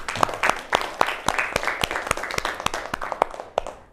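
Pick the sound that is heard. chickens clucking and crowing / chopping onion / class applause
class applause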